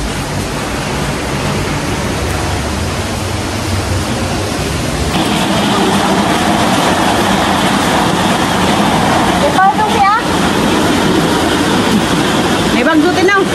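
Heavy rain pours down in Antipolo during flooding, a dense, steady roar that grows louder partway through, while people talk over it.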